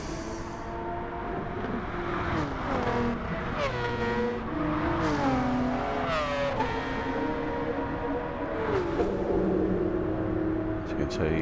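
Race car engines in Gran Turismo 7 on the Tokyo South circuit drone and rise and fall steadily as they shift through the gears, with a commentator talking over the engine noise throughout.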